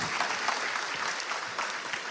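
Applause from the audience at an Indonesian evening talk session, an even wash of many hands clapping at moderate volume for about two seconds, with no talk over it.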